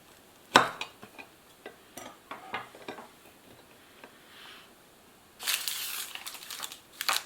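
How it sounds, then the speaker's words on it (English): A coffee-flavoured, rice-protein energy bar from a French army 24-hour freeze-dried ration is sliced with a knife: scattered light clicks and crinkles, then a louder, rougher burst of crunching and tearing near the end, all close and without talk. "Let's slice it"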